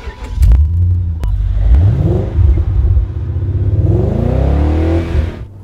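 An E31 BMW 8 Series engine revs and accelerates hard, its pitch sweeping upward through several gear changes, loud and close.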